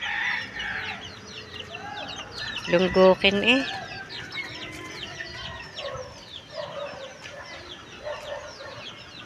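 Chickens cluck and murmur nearby with a louder rooster-like call in the middle, while a person briefly speaks over the farmyard chatter.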